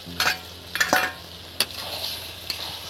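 Marinated mutton sizzles in a pan as a utensil stirs it, a steady frying hiss broken by several sharp scraping clanks of the spoon against the metal, close and fairly loud.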